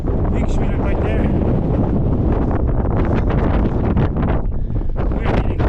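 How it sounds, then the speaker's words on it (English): Strong gusting wind on Carrauntoohill, buffeting the microphone with a loud, continuous roar and rumble close up, no talking. "We're getting blasted here. I am soaked. Damn soaked. The wind's brutal."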